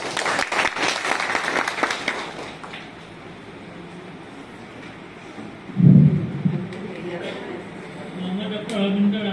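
An audience at an Assamese literary lecture claps in a dense burst that fades within about three seconds, leaving a quiet hall with a single thump and faint room noise.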